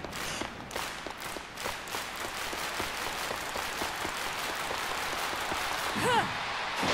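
A virtual stadium crowd in the Olympic Games Tokyo 2020 video game claps in a steady rhythmic beat during a long jump attempt, dense and continuous, with a voice briefly rising near the end.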